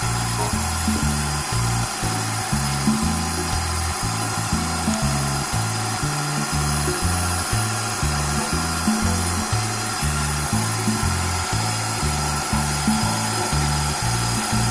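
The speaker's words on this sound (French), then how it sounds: "pour pétrir, on utilise le crochet. Donc à petite vitesse, vous connaissez." A stand mixer kneads brioche dough with a dough hook at low speed, giving a steady, loud rhythmic motor churn with regular thumping pulses running throughout.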